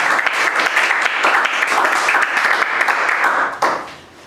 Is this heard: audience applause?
yes